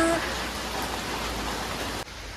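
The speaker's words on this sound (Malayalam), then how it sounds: "നല്ല മഴയുണ്ട്." Heavy rain falling steadily on a house yard and road, a dense continuous hiss close by that drops off sharply near the end.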